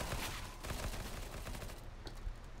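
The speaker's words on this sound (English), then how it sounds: "I kinda shot you in the face when I was shooting a guy" Gunfire rings out in the video game Counter-Strike: Global Offensive, a quick fusillade of sharp, fairly faint shots fired in rapid irregular bursts over a low background rumble.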